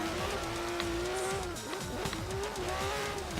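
Car drifting through a turn in Forza Horizon 3, with a steady engine note that dips and recovers as the tyres squeal through the slide, loud and close with no talking.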